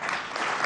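Applause from the public at a national dialogue and peace conference in Venezuela, a dense, steady wash of clapping filling the brief moment with no voices.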